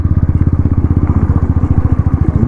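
A motorcycle thumps along at a steady, rapid pulse while riding over a broken, rocky mountain road at Sach Pass, close and loud.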